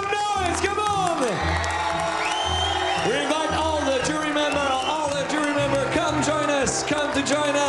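A big audience at a chocolate competition cheers, whoops and shouts continuously, a dense lively roar with high yells rising above it and a thumping music beat running beneath.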